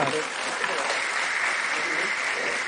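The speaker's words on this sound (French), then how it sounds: "on peut les applaudir quand même" An audience applauds in a dense, steady wash of clapping that holds evenly for a few seconds, with voices faintly mixed in.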